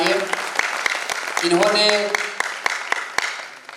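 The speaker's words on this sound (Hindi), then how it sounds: "तो ऐसे बिहारी के लिए जोरदार तालियां बजाइए।" An audience at the Bihar Gaurav festival inauguration bursts into applause, a burst of scattered claps building and thinning out, with a voice speaking over it briefly.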